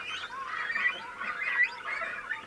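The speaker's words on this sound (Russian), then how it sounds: "Бакланы не боялись оператора и спокойно кормили своих птенцов." Cormorant chicks at a nest call in continuous raspy, clucking squawks as adult cormorants feed them half-digested fish, with moderately loud overlapping calls and no speech.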